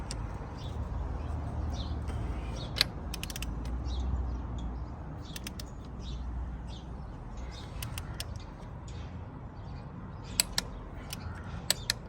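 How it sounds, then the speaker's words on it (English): A torque wrench tightens diesel injector bolts to 25 Nm on a 2011 Toyota Avensis T270 2.0 D4D, with faint creaks and scattered sharp ratchet clicks while birds call in the background. "So we'll tighten these up back. So each of these 25 newton meters."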